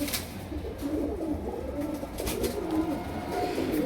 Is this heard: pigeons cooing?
yes